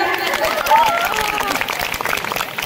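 Crowd clapping and cheering at a school jubilee celebration, with a lively hubbub of voices, steady and fairly loud throughout.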